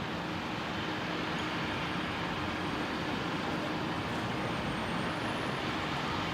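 A jet airplane departs Brisbane Airport, its engines a continuous broadband roar that stays loud and steady throughout, with no talking.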